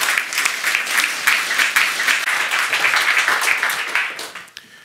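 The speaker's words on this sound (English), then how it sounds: "a warm applause for Mr." A lecture audience gives a warm round of applause for a philosopher, dense steady clapping from many hands that fills the room for several seconds before thinning out at the end.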